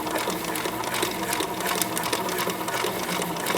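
A sewing machine stitches a paper-piecing seam line for a quilt, a steady, close, fast mechanical whir and patter that runs without a break.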